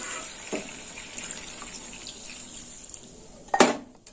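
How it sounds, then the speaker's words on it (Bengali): Water pours into a pan of simmering okra and bata fish, a soft running trickle with a brief louder splash near the end. "এবার জল দিয়ে দেবো, দিয়ে দিলাম জল"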